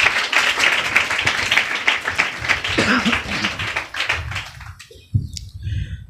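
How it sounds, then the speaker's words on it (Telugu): A congregation at a Sunday worship service claps together in a dense, sustained burst of many hands that fades out after about four seconds, leaving a quieter room with a few soft sounds. "ఒకసారి ప్రభును చప్పట్లతో ఘనపరుద్దాం గాక"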